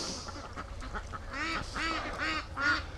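Free range ducks by a lake quacking in a run of four or five nasal calls, close and clear, following one another at a steady pace over light outdoor background noise.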